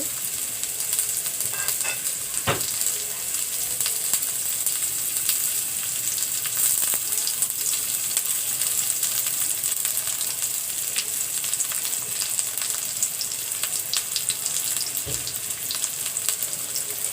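Onions frying in mustard oil in a wok on a stove, a steady, close crackling sizzle that continues evenly throughout, with occasional stirring clicks and no talking.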